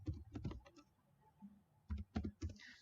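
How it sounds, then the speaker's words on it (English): Keys clatter on a computer keyboard as a web address is typed during a server setup, two quick bursts of close clicking separated by a short pause. "we'll type http:// then we need to type what is my server IP address"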